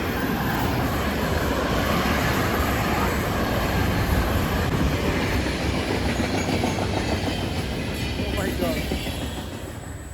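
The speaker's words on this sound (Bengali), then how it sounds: "বলতে বলতে কিন্তু বিশাল এক মালবাহী ট্রেন যাচ্ছে" A large freight train rolls past on a railway line in Italy, a loud, steady roar of wheels and wagons with faint clickety-clack rhythm running throughout, close by and continuous, easing slightly toward the end.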